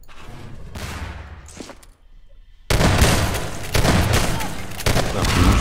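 Loud bursts of gunfire in a Half-Life 2 Deathmatch 2v2 match, first quieter game sounds, then a sudden dense barrage of booming shots and rapid fire that continues to the end, with no talking over it.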